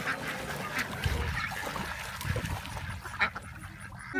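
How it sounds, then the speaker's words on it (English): Ducks at a farm give scattered quacks and honk-like calls amid low background rumble and faint splashing, with brief louder calls standing out near the middle. "Duckies! Ducky, ducky, ducky, ducky"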